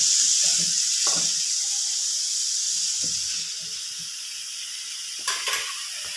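Onion, garlic and coconut pieces with a little salt sizzle and hiss steadily in a covered pan, a constant close frying sound with a few faint clinks of the pot and lid, no voices.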